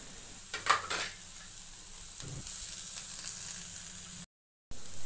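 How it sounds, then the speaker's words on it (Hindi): Onion, green chili and ginger being stirred into fried dal in a pan, giving a steady frying sizzle with a few soft scraping strokes early on, close and alone, with a brief dropout near the end. "अब इन सभी को कर लेंगे हम अच्छे से मिक्स।"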